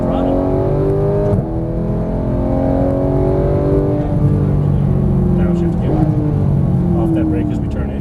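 Porsche GT3 race car at Exotic Racing in Las Vegas, heard from inside accelerating on track with a loud engine note climbing through gear changes, while someone talks over it continuously.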